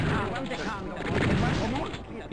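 Rapid gunfire from the video game Doom, a custom WAD, rattles through a short burst of shots with game noise, dense and close.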